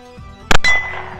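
A rifle magazine drops and strikes hard ground with a sharp metallic clang, followed by a brief second clatter and a ringing tail that fades quickly.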